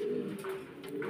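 Farm pigeons give a short, soft cooing call, faint and close, with a couple of brief higher chirps over a low murmur.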